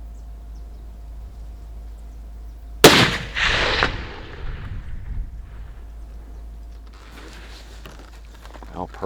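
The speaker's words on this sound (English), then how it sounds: "Just got done test shooting the rifle here" A single loud rifle test shot on a rocky grassy hillside on Dugi Otok island, Croatia, a sharp crack followed by a rolling echo that fades over a second or so, with faint voices and rustling afterward.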